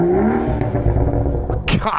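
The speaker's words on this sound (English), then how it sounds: "Rev it on the way out for me." A sport motorcycle, either a Kawasaki Ninja H2 or a Suzuki Hayabusa, revs hard nearby, its loud engine note climbing and then rumbling steadily before a sharp burst near the end.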